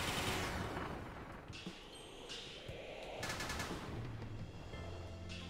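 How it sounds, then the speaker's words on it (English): A ranged gun in Kirby and the Forgotten Land fires in a dense, continuous rattle of shots, with harsh electronic bursts and layered game effects building over steady background noise. "I love this gun. It's so good for ranged combat."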